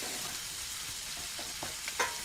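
Chicken and spice paste sautéed in a pan, with the minced meat and tomatoes already cooked down: a continuous loud sizzle and frying hiss, with a few brief scrapes of stirring near the end.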